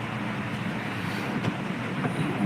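Steady, dense patter of rain drumming on a car roof, a continuous even wash of noise with no voices.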